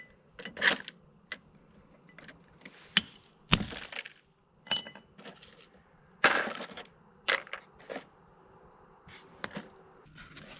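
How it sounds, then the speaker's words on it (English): Sharp clinks and cracks of a chisel striking and splitting a large Dalmatian Jasper stone nodule, a series of irregular separate hits with short pauses, fairly close and alone. "I think actually I'm going to try to break that with a chisel so I get it more precise."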